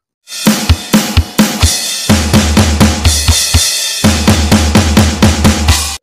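A drum kit plays a steady groove of kick, snare, crash and floor tom in a standard-tempo pattern from a real drum part for a song, loud and close with no talking.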